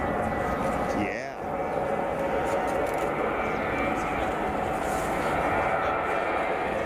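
An Etihad Boeing 777 jet at Frankfurt Airport roars steadily from a distance, a broad continuous engine rumble and whine that holds for several seconds, loud and unbroken, with people talking over it.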